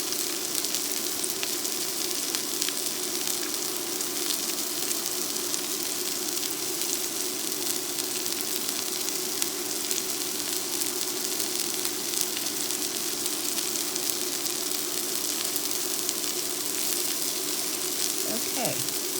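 A beef burger patty sizzling in a skillet with avocado oil, a constant even crackle lasting throughout, fairly close and steady, with a voice faintly present at times.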